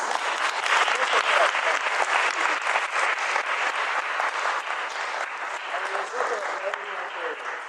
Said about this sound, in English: we'd like to applaud for you too